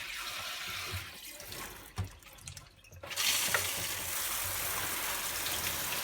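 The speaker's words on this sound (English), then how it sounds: "I'll just give it a rinse because that's all you should need to do." An AEG tumble dryer condenser is rinsed under a running tap, the water streaming steadily and close by. A brief splash and a dip in the flow interrupt it midway, then a fuller, steady rush of water follows.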